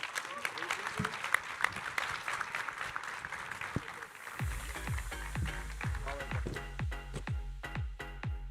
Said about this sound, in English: But please give my panel a round of applause.